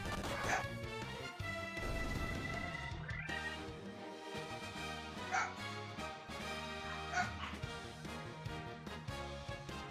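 Dogs bark and yip repeatedly at moderate distance, sharp bursts scattered over a steady background of music-like tones.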